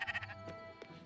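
Sheep bleating in the Spiritfarer video game, a short wavering bleat followed by a couple of softer bleats, fairly quiet and alone.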